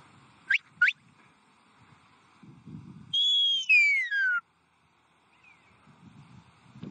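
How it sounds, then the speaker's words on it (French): Shepherd's whistle commands to a sheepdog in the Béarn countryside: two sharp short chirps, then a long sliding whistle call that falls in pitch and breaks into steps, with soft rustling and wind in between. "le chien sait répondre à des instructions données par sifflet"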